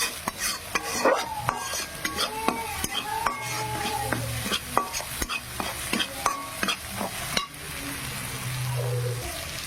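Spices are tipped into a hot pan for a rui fish curry and stirred with a metal utensil, giving rhythmic scraping clinks over a constant close sizzle.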